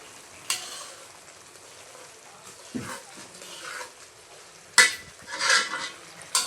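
Food frying in oil with bay leaves for a spiced dish, a continuous sizzle broken by several sharp scrapes and clinks of a spoon stirring against the pot.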